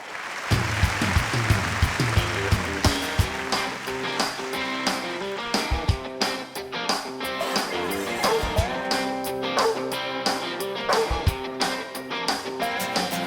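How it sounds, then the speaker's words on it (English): Audience applause for performers on a country music television show comes in under a band playing loud music with rhythmic strumming and drums, and the clapping is partly masked throughout. "Please give them a big old round of applause."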